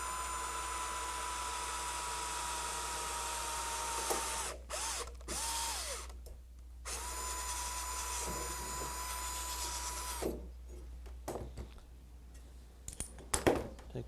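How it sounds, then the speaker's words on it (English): A power drill bores a hole through a wooden oak bucket, a steady close whirring drone broken by short pauses and changes in pitch as the bit works through the wood. "And now I'm going to drill the second hole through there."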